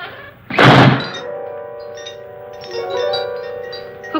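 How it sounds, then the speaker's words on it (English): A heavy solid steel door slams shut in an old house, one loud deep thunk that rings briefly, followed by a lingering tonal resonance and faint ambient sound. "Who closed the door?"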